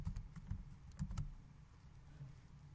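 Typing on a computer keyboard: a short burst of quick, faint key clicks in the first second or so, then a quiet room hum.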